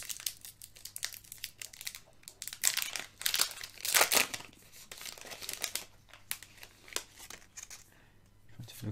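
Crinkling and tearing of a foil Pokémon card booster pack from a Dracolosse VSTAR box set, close and uneven, with sharp bursts of rustling and crumpling over a faint steady background hum.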